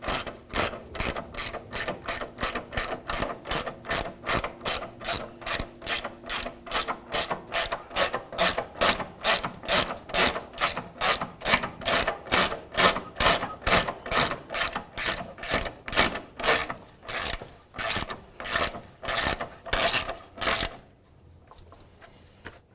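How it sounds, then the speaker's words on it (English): A ratchet with a 19mm socket snugs a control arm bolt under a 2011-2017 Honda Odyssey, giving a steady run of loud, close, rapid clicks that stops abruptly near the end. "underneath we're going to take our 19mm and we're going to snug this one up as well"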